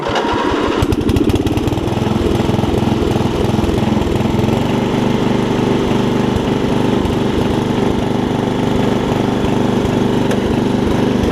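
An old Murray riding mower engine cranks with rapid chugging for about a second, then catches and settles into a steady, loud, close running drone that holds to the end.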